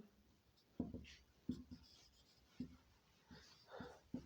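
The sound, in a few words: writing out a maths solution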